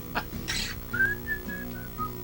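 A person whistles a short tune, a few sliding and held notes, close and clear, over a soft background of guitar-like tones.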